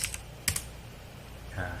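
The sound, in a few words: computer keyboard typing a terminal command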